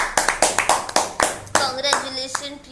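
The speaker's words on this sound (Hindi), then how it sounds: "सो जोरदार तालियां हो जाए प्रियंका जोशी के लिए।" Audience claps for Priyanka Joshi at an online public speaking competition's result announcement, a run of sharp separate hand claps that thins out, with some speech mixed in.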